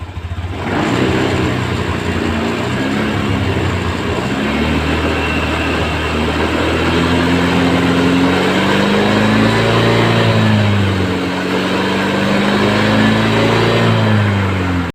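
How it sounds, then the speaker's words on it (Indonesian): A fuel-injected Honda Beat motorcycle engine runs with a faulty injector, giving a loud, continuous stuttering drone whose pitch rises and falls as the throttle is worked, close up with no talking. "Nah, ini motor sudah terasa berebet."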